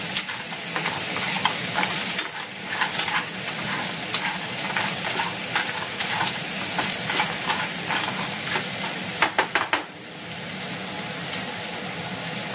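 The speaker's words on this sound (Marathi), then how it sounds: "आतां हांव तितू एड कोता ह्यो तिसऱ्यो आनी ताका बरें तितू मिक्स कोता" Clams are stirred and cooked in a hot pan with a constant loud sizzle. Utensil scrapes and clinks recur throughout, with a quick cluster of clatters near the end before the frying settles.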